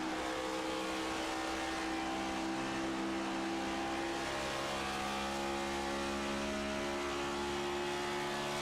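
Race car engines roaring steadily on a track during a race, a continuous droning tone with engine harmonics, fairly distant with no voices over it.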